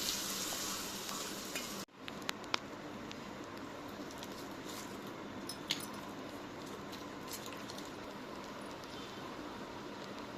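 Mustard seeds, cumin and curry leaves sizzle and crackle steadily in hot oil after a brief pause, with a few sharp pops and faint stirring clinks throughout.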